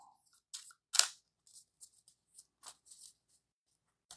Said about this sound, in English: Now we get to shuffle.